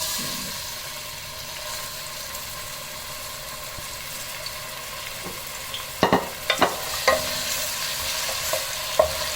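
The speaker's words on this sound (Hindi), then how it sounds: "कुकिंग ऑयल यहाँ पे गर्म हो चुका है, तो मैं इसमें अब ये प्याज शामिल कर दूंगी।" Onions hitting hot cooking oil for kadhi pakora give a steady soft sizzle, then a few sharp stirring knocks and scrapes join in near the end, close up and without talk.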